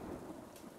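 A short burst of thunder rumbling through steady rain during a storm, loud and dense with no pause.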